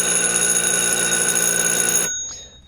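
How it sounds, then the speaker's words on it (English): A steady electronic oil-pressure alarm aboard a 1940s wooden yacht sounds loud and continuous as a high, piercing tone, then cuts off abruptly, leaving near silence. "Got the oil alarm."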